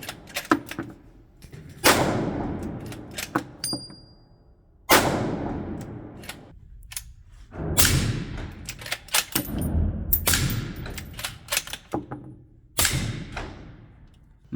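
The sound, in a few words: 5.56 rifle gunshots with HUXWRX suppressor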